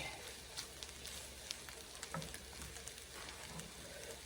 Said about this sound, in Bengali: মূলা ভাজি করে নিতেছি